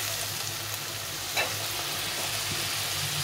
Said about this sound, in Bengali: আর হলুদ গুঁড়ো এটা দিয়ে একটু জল দিয়ে ভালো করে কষিয়ে নেব।